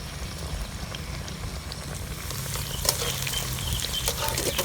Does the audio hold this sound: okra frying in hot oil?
yes